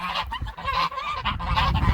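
Geese honk loudly and repeatedly, a noisy overlapping chorus of harsh calls close by on a farm with chickens.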